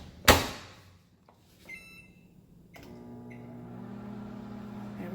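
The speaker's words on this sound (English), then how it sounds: "this is going into the microwave for 1 minute on high" A sharp microwave door clunk and a few electronic beeps, then a steady low microwave hum starts and keeps droning on its own as a mug chocolate chip cookie cooks on high.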